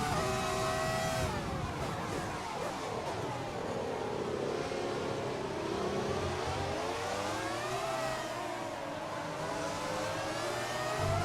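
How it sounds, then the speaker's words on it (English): Formula 1 cars in a racing video game from the 1998–2007 era, several engines whining and revving together, pitch sweeping up and down through gear changes as the pack roars past, loud and continuous. "We see the cars all scrambling down the back straight there, side by side, into turn 3."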